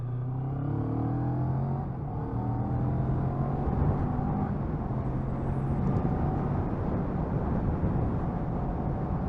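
A 2022 CF Moto 650NK twin-cylinder motorcycle on country lanes, its engine droning steadily and loud close by, pitch rising and falling through the gears with wind rush mixed in.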